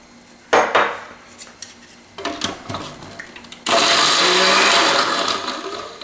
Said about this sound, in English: to really blend that garlic up good